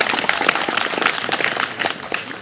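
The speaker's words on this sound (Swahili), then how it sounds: "Mimi nadhani tumpigie makofi na tumshukuru Sheikh Abdul Qadir." Gathered villagers at a Ramadan iftar event in Pemba clap for Sheikh Abdul Qadir, a lively burst of close, crisp applause that carries on steadily with a faint murmur of voices.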